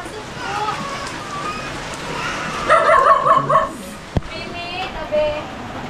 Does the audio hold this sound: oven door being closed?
no